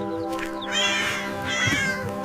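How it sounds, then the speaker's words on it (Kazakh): A cat meows twice in close succession, clear and near, over a steady musical backdrop with no talking. "Ал мысықтың баласы марғау ғой"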